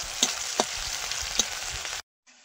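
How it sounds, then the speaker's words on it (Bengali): Onions frying in oil crackle and sizzle continuously at close range, with a few sharp spatula scrapes on the pan before the sound cuts off abruptly near the end. "পেঁয়াজটা একটু তেলে ভেজে নেব"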